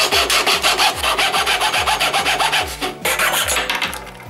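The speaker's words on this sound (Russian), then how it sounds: "возьмем ножовку по металлу и аккуратненько отрежем горлышко бутылки" A metal hacksaw cuts through the neck of a plastic bottle in steady, rhythmic back-and-forth strokes, close and loud, with a brief pause near the end before the sawing resumes.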